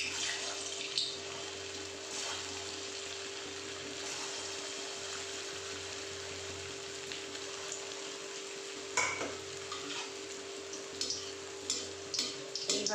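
Dough balls fry in hot oil in a wok, giving a steady, even sizzle that runs throughout, with a few soft clinks and stirring sounds here and there and no talking.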